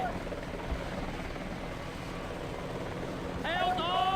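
A helicopter in the Vietnam-era video game Battlefield Vietnam lifts off with a steady rotor and engine drone that swells near the end, joined by a bright rising whine.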